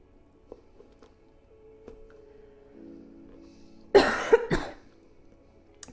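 A person coughs nearby in two sharp, loud bursts close together. Before the coughs there is a near-silent stretch with faint ticks.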